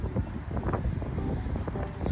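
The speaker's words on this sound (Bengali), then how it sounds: "হাওয়া একদম উড়িয়ে নিয়ে যাচ্ছে।" Strong wind buffets the microphone outdoors near a home, producing loud, gusty low rumbles and irregular blasts throughout.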